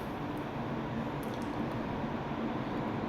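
Water is poured steadily and continuously during a tarpanam ancestral offering ritual on Masi Amavasai, a dense unbroken splashing wash that fills the whole stretch.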